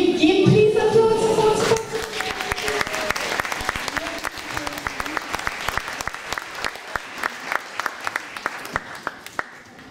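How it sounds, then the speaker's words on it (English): Audience applause after a children's primary-level ballet performance at a summer show, a dense wash of clapping that thins into distinct individual claps toward the end, following a brief opening voice. "Give please applause."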